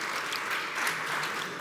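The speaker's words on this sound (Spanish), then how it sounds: "un aplauso para Iván Ordóñez" A short stretch of audience applause for a speaker at an agricultural economics congress, with even, continuous clapping at moderate level throughout.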